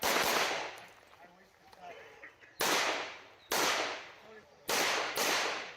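Sharp, loud gunshots at a USPSA practical shooting competition: a single report with a long decaying tail, then several more shots in quick pairs near the end, each one sharp and ringing.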